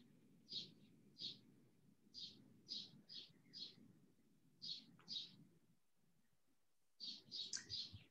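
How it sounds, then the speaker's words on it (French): Small birds chirp nearby in short, bright bursts, repeating in clusters with a brief pause before another quick run of tweets, over a faint low background rumble. "J'entends des petits oiseaux."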